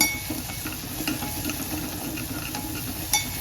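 Asafoetida and turmeric are stirred in a pan on low heat, a continuous gentle scraping and soft sizzle with faint utensil ticks against the metal and one brighter clink near the end.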